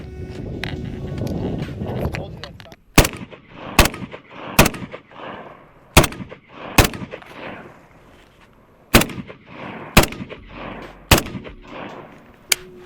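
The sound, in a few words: SIG SPEAR .308 rifle gunshots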